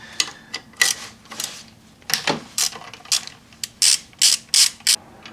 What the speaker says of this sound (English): next we're going to remove this 10mm bolt